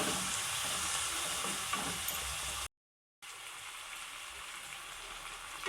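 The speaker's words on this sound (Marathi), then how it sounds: "चांगला कांद्याचा कलर बदलतेपर्यंत कांदा परतून घेऊया त्याला म्हणजे गोल्डन कलरचा होईपर्यंत" Chopped onions sauté on low heat in a pan until golden, producing a continuous soft sizzle and stirring hiss, broken by a short silent gap midway.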